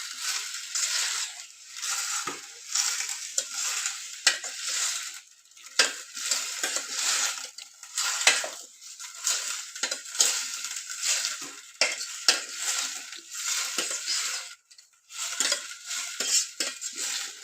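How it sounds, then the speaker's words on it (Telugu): A spoon scrapes and clinks steadily against a pot while wild mushroom curry is stirred, with soft sizzling beneath; the strokes come in uneven bursts with brief pauses, close and clear, and no one speaks. "కలుపుతూ మగ్గనించుకోవాలి, ఎందుకంటే మళ్ళీ అడుగంటే అవకాశం అయితే ఉంటుంది"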